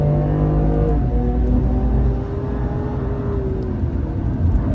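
A car accelerates out of a corner on a race circuit during a driving lesson, its engine a loud, close, steady drone that eases slightly midway and then keeps pulling, with no talk.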